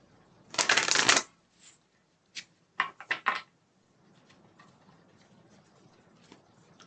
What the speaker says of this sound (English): I give these a nice shuffle for you, Tracy, and we'll see what we can get.